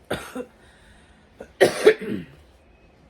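Two bursts of harsh coughing, a short one followed after a pause by a longer, rougher fit, close and alone in a quiet room.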